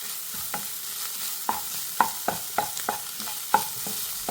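A spatula scrapes and taps through a cauliflower and egg stir-fry in a pan, leaving about a dozen short, sharp knocks at an irregular pace over a soft frying hiss, close and clear with no talking.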